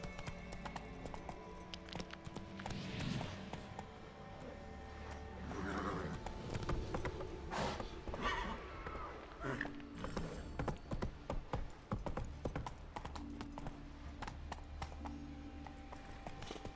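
Roach, a horse in a video game, gallops with rhythmic hoof clip-clops alongside clinking tack and mechanical clatter, fairly faint and continuous, with a brief whinny.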